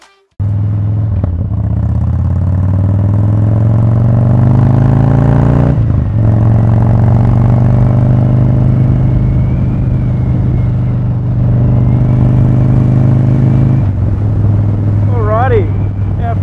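A rebuilt, previously written-off 2017 Harley-Davidson Street Bob starts up and pulls away on a test ride. The engine is loud and close, and its pitch climbs steadily through each gear, with clear breaks at the shifts.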